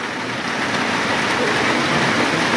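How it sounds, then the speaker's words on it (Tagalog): Steady rain pours down outdoors on a mountain trek, a dense, even hiss of drops on surfaces filling the whole stretch without letup, loud and close with no voices. "Ngayon naman ulan, malamig."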